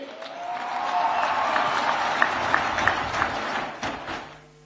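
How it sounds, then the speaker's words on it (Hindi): A crowd at the opening of a regional sports games event applauds to welcome a guest, a broad wash of clapping from many hands that swells, holds with scattered sharper claps, then fades away at the end. "जोरदार ताली से उनका स्वागत करिए।"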